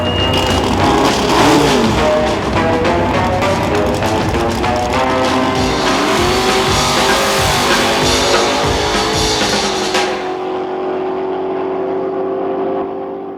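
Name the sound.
cars drag racing on a strip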